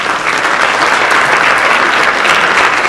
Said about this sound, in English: For all of them, a big round of applause, please.